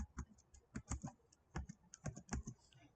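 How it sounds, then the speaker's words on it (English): Quick, light keystrokes on a computer keyboard come in short irregular bursts of clicks, close and fairly quiet, with small pauses between runs of typing. "I am typing here testing."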